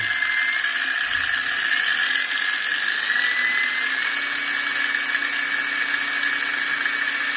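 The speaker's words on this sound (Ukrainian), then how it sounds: "Розблокували, нажали два рази і болгарка у нас працює." A Parkside PWSAP 20-Li E6 cordless brushless angle grinder runs steadily at high speed, giving a loud, even motor whine that holds without a break.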